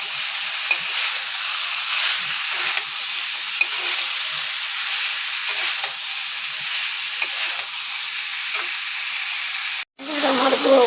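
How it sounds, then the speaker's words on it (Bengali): Broccoli and potatoes sizzle and fry in a pan with salt, a steady close hiss broken by scraping stirs throughout, with a brief cut near the end before the frying resumes. "ভালো করে কষিয়ে নেব আবার।"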